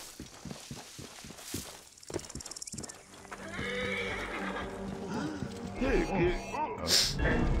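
Hooves clop in a quick rhythm in a video game, followed by a loud horse neigh and whinnies layered over music, with a voice talking alongside.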